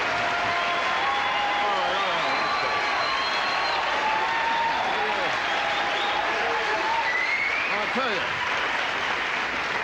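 A comedy club audience at a Rodney Dangerfield show applauds steadily and loudly throughout, with whoops and cheers over the clapping and a man's brief spoken remark.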